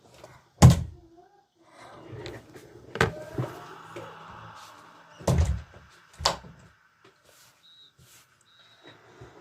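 A door closes with a sharp, loud thunk, followed by several more dull knocks and bumps spaced across a quiet room with faint background noise.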